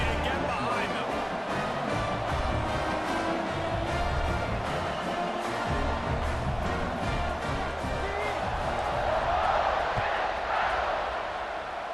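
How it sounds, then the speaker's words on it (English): A dense stadium crowd roars steadily in EA Sports College Football 26 just before a kickoff after a touchdown. The noise is a loud, continuous wash with no clear breaks, and commentary voices run beneath it. "this crowd now ready to get behind them"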